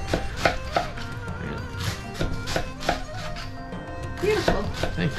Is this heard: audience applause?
no